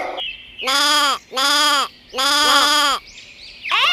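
A goat bleats three times in long, wavering cries, loud and close, with a shorter bleat starting at the end.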